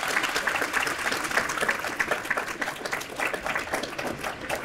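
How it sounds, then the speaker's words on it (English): An audience claps for student presenters at a science education event, a moderate, steady patter of many hands that holds evenly for several seconds, heard from within the room with no voices over it. "Give them a round of applause"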